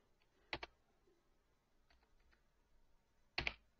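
Typing on a computer keyboard while creating users in Windows Server 2008 R2 Active Directory: two quick pairs of crisp key clicks separated by a quiet gap, with a few faint taps in between.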